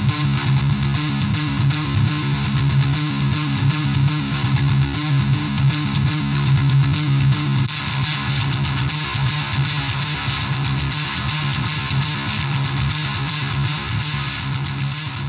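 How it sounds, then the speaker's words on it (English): Harsh, fuzzy guitar distortion from the built-in effect of a Danelectro wah pedal, played as a steady loud wash of buzzing chords that runs alone for about fifteen seconds. "that is the built-in distortion effect on this Danelectro wah pedal, and it's truly bloody awful"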